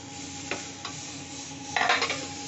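Ginger paste dropped into hot oil in a wok for a vegetarian aloo dum: a couple of short clinks, then a louder hissing sizzle bursts up near the end over a steady low kitchen hum, with no talking.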